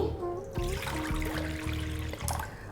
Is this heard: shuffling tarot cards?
no